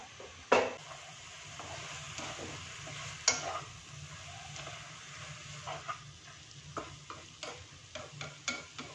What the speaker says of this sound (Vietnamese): Cho hành vào thịt rang và xương hầm